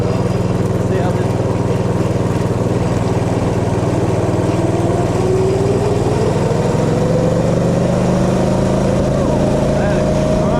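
An offroad mini bike's small engine runs loud and close, a steady buzzing drone that rises in pitch as it revs up about halfway through, with a voice faintly audible beneath it.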